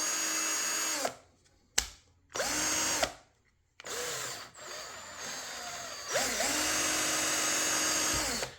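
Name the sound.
cordless power drill running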